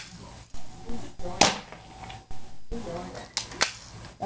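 An airsoft gun fires BBs at targets in a few sharp, close snaps spread across the moment, with someone talking between and over the shots.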